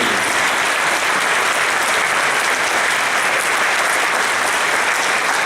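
An audience at a political forum applauds for the military, a dense, loud wash of clapping that stays steady and sustained throughout, with no voices standing out.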